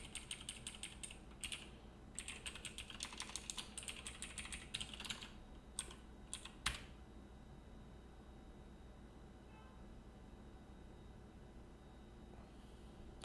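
Quick bursts of close, clicky typing on a computer keyboard, separated by pauses, followed by several quiet seconds.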